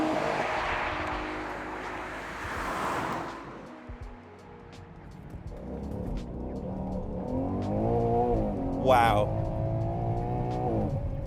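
A Ferrari Purosangue's turbocharged engine revs hard and builds steadily as the car accelerates, with the pitch climbing through several gears and loud road and cabin noise throughout. An occupant briefly exclaims over the engine.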